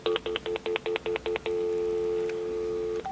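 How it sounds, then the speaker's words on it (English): A quick run of about ten beeping keypad tones gives way to a steady, continuous telephone dial tone. "I can verify that there is a dial tone"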